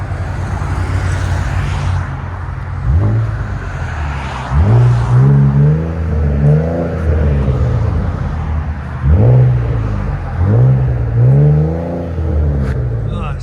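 A 2018 Ford Explorer 3.5L EcoBoost V6 with X-pipe and Flowmaster Flow FX exhaust revs repeatedly, deep rising and falling blasts separated by a steady idle rumble, loud and close, with someone talking briefly.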